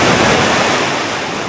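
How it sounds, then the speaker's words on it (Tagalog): A big ocean wave crashing on shore, a broad, loud roaring wash of surf close by that holds steady and eases off slightly. "Bago dumating yung malaking alon."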